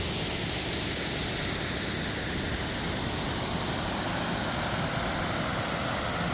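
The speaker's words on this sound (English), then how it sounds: "But that is one beautiful waterfall." Mill Shoals Falls in Rabun County, Georgia, roars as a steady, dense broadband rush of falling water, loud and unbroken throughout, with no voices over it.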